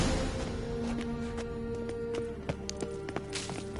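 A horse's hooves gallop in The Witcher 3, a fast run of clip-clop beats under a steady wash of game ambience and music, moderately loud with the strikes growing more distinct toward the end.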